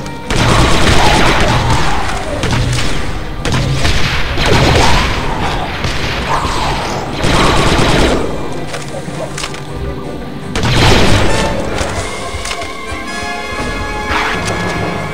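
Heavy blaster gunfire in the Star Wars Republic Commando video game during an assault on a Trandoshan outpost on Kashyyyk, dense loud bursts and crashing impacts in waves with brief lulls between.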